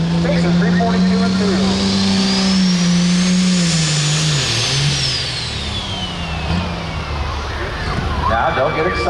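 A pulling tractor at an OSTPA truck and tractor pull at the Greene County Fair in Xenia, Ohio, roars loudly and steadily, its engine pitch climbing and then dropping as it runs down the track, under crowd noise.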